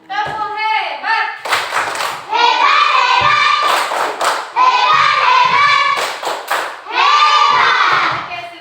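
A third-grade class performs a rhythmic chanted clapping routine, sharp claps in quick patterned bursts mixed with children's voices calling out in unison, loud and close.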